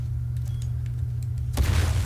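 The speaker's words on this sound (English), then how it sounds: "Oh, that car exploded." A car blows up in Uncharted 4 multiplayer: after steady low rumble, a single loud broadband boom bursts in near the end and rolls on as crackling debris.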